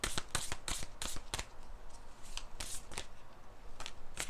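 Tarot and oracle cards are shuffled and handled close by, with a burst of rapid riffling flicks, a quieter pause, and then more scattered shuffles and card snaps, with no talk.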